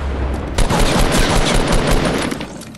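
Sustained, loud automatic weapon fire in a shooter video game, dense overlapping shots forming a continuous fusillade with sharp individual cracks throughout.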